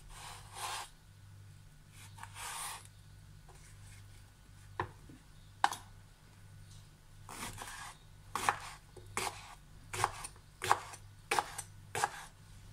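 Soaked purple eggplant being diced on a cutting board, knife strokes coming in irregular bursts, sharper and faster toward the end, close and fairly quiet over a low kitchen hum.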